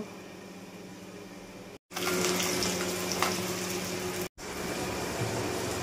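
Bata fish frying in hot mustard oil gives a steady, close sizzle that hisses evenly across the pan, broken by two brief cuts to silence, with no one talking.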